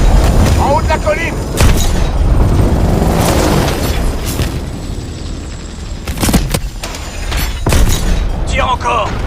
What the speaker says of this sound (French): Continue de tirer. Tir venant de la gauche.